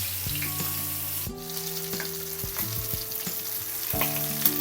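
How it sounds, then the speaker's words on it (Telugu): Chicken leg pieces fry in hot oil in a shallow pan, not deep-fried, with a constant close sizzle and crackle and a few scraping stirs of a utensil along the way. "ఆయిల్ వేడైందండి. ఈ లెగ్ పీసెస్ వేసుకుంటున్నాను."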